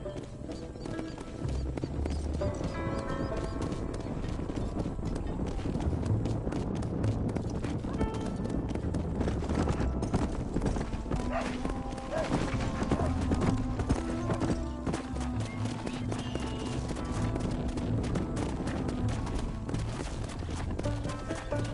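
Horse hooves clip-clop steadily under a game score in the Western video game Red Dead Redemption on PS5, with brief neighs and other game sounds around them.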